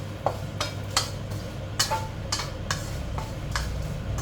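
Dried bird's eye chillies dry-roasted in a pan, with a series of sharp scraping and ticking stirs at an irregular rhythm over a soft background hiss, close and without talk.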